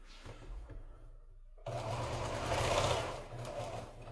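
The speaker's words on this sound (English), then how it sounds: "And then I will sew this curve together." Quiet room tone, then a home sewing machine starts up and runs steadily for a few seconds, stitching a curved seam on a quilt piece, close and moderately loud with no talking.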